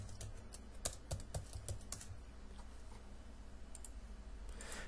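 Typing on a computer keyboard while building a SharePoint sequential workflow in Visual Studio 2008: quiet, close key clicks in an uneven burst, then sparser taps, with no talk.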